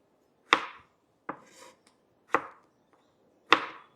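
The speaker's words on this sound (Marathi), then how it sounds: "आपण आता ग्रेव्हीसाठी टमाटर कट करून घेऊ" Tomatoes being cut on a board for a liver masala gravy: four sharp, separate knife chops land at uneven intervals, close and clear, with near silence between them and no talk.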